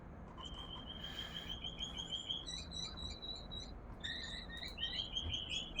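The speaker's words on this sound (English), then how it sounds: "No, it's the birds." Birds chirping outdoors, a run of thin high tweets and whistled calls repeating through the clip, faint and steady over a low background hum, with no talking.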